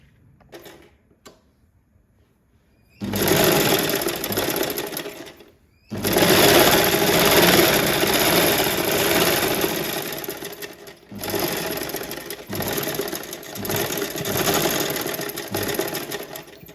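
A sewing machine stitching a children's box pleat skirt, running in three loud bursts of steady whirring and rattling. The bursts are separated by short pauses, with a few faint clicks and taps before the first run.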